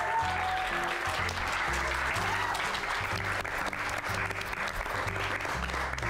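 An audience at a quiz bee award ceremony applauds the champion high school with steady, continuous clapping, heard fairly faint and slightly distant, with a low tonal hum running underneath.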